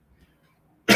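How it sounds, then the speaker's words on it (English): A person coughs once, loud and close, in a short burst at the very end after near silence. "Sorry for coughing."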